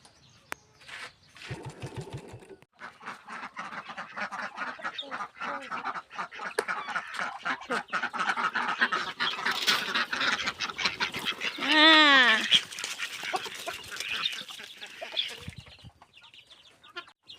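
Ducks and chickens on a Thai farm fill the air with overlapping quacks, clucks and honking calls, a busy continuous flock chorus with one louder rising squawk near the end, no talking.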